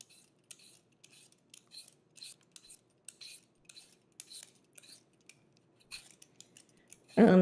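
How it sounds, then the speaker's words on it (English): Potatoes are peeled by hand for a shepherd's pie, giving soft, scraping strokes in a steady, repeated rhythm close by, then a louder rustle at the end. "I'm gonna peel them, and then cut it up."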